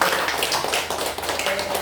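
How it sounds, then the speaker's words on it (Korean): A church congregation claps in encouragement during a Sunday worship service, a brief burst of steady, dense applause filling the room, with faint voices underneath. "격려의 박수 한번 해주세요."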